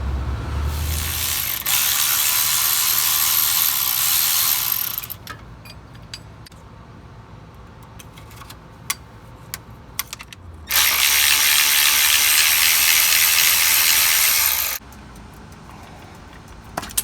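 A ratchet fitted with a 10mm socket clicks steadily while backing out oil pan bolts on a Ford 2.7 EcoBoost. Two long, loud runs of rapid ratcheting, separated by a quieter stretch of faint metallic taps and handling noises.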